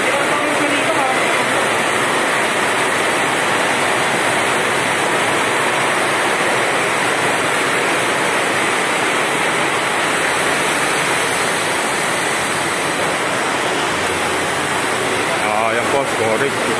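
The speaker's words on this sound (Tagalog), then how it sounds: "Malakas po ulan dito." Heavy rain pours outside a public market, a dense, loud, unbroken wash of noise that holds steady from start to finish.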